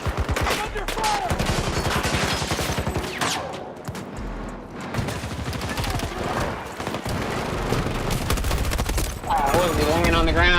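Dense bursts of video game gunfire, rapid fusillades and machine-gun volleys, fill the scene nearly nonstop, loud and close, with a voice speaking over parts of it.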